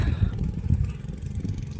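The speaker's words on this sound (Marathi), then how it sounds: "ट्रॅक्टर आमचा परत एकदा चालू झालेला आहे" A tractor engine runs in a rain-flooded paddy field while the mud is being churned for planting. It gives a steady, nearby mid-pitched rumble with slight clatter and no pauses.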